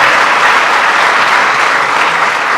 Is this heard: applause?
yes